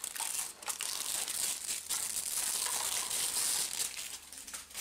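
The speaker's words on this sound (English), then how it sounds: "Now this one's wrapped in cellophane" Cellophane wrapping on a puzzle crinkles and crackles close by in a continuous run of bright rustling bursts, with no talk.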